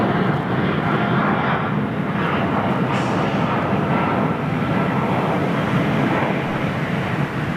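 An Airbus A350 XWB jet takes off at Heathrow with a loud, steady broadband roar that holds close and continuous throughout, with no voices.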